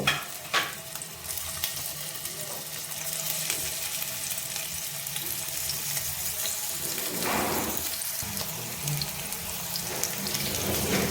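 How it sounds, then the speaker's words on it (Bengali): Pieces of dhoka, a Bengali lentil cake, fry lightly in white oil in a pan, a steady close sizzle with brief clatters and stirring scrapes near the start and around the middle. "এবার প্যানেতে সাদা তেল দিয়ে দিয়েছি, একটু গরম হয়ে যেতে এগুলোকে হালকা করে একটু ফ্রাই করে নেব"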